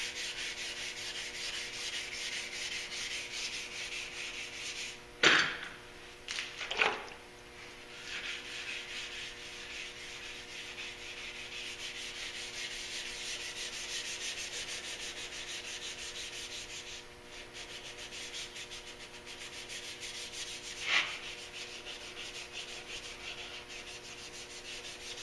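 Steady close hand rubbing of wet sandpaper on a car's rocker panels, a continuous gritty hiss broken by a few sharper knocks and scrapes.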